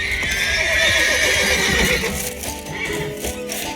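Horses in The Witcher 3 whinny loudly and repeatedly up close, shrill neighs over hooves clip-clopping and shuffling, the calls fading into softer stamping and snorts.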